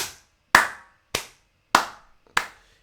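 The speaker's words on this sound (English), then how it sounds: "I'm clapping my hands right there" Four sharp hand claps, close and crisp, spaced roughly half a second apart with silence between each, no one talking.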